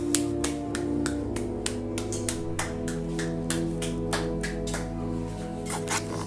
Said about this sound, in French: On va te laisser repartir sous les applaudissements